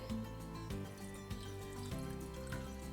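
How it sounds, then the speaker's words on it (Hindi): One cup of water poured into a saucepan for making sushi rice, close and faint, with soft splashing pulses in an uneven rhythm and no talk. "सो 1 कप पानी पहले डालेंगे"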